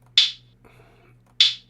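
Two crisp hi-hat hits in a programmed beat, each sharp and bright with a short decay, spaced about a second apart, with a faint low hum and a soft murmur between them.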